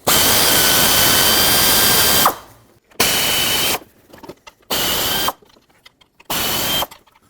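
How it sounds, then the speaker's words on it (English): Air ratchet spinning bolts loose on a 1998-2011 Ford Ranger 4.0L V6 engine, four loud close bursts of steady high whirring separated by short pauses. "I'm just going to use an air ratchet."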